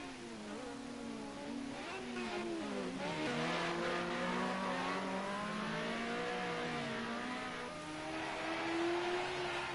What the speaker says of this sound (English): Hear those engines scream. They do sound all lovely.